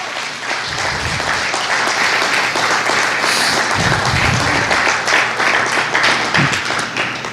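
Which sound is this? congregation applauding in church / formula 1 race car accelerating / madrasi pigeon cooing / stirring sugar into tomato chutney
congregation applauding in church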